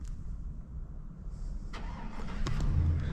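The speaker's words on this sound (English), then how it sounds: "There's cars driving all over, up and down the road." A car engine runs and revs as the vehicle pulls in and parks beside a truck camped near a courthouse early in the morning, rising from a soft idle to a louder, closer rumble.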